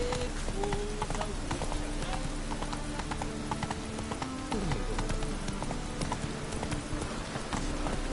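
Roach, a horse in The Witcher 3: Wild Hunt, gallops with rapid, steady clip-clopping hoofbeats over a continuous background of game ambience and faint wind.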